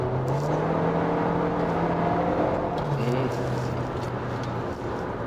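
Cabin sound from a Kia Sportage LPi accelerating through a fast corner: a steady engine drone rises in pitch under road noise, with someone talking over it.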